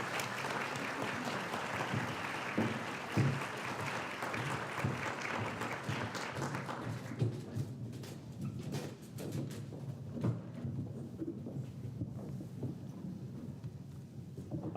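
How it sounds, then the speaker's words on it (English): An award ceremony audience applauds the participants with a dense burst of many hands clapping at once, then thins to scattered, fading claps. "So a round of applause for the participants."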